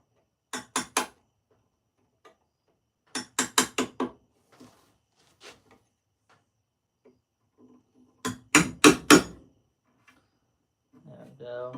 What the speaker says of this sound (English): Grab my other nail set that's smaller. Smack it down in there.